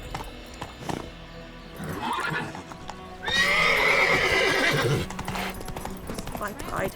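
Roach, Geralt's horse in The Witcher 3, gallops with rhythmic clip-clopping hooves and gives a loud whinny midway, while someone speaks over the hoofbeats.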